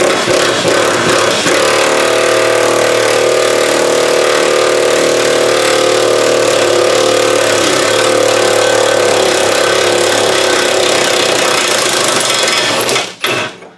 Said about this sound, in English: Now I have it on an extension and an impact gun